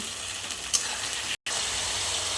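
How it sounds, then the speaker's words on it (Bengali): Masala paste frying with browned onions in a pan, a steady close sizzle with a brief stir and one short cut in the sound, with no talking. "এখন আমি দিয়ে দিব পেস্ট করা মশলাটা, দিয়ে দিয়েছি। এখন এটাকেও আমি কিছুক্ষণ ভেজে নিব।"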